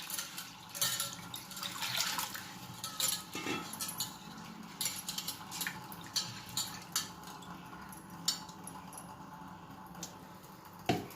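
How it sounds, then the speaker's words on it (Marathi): Water splashes and swishes in a bowl as chana dal is rinsed by hand, with clinks of a metal vessel and steady running water, close by. "स्वच्छ पाण्याने धुवून घ्यायची आहे।"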